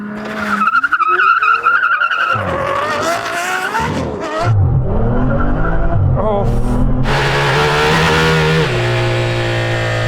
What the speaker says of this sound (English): Let's just get on with the race.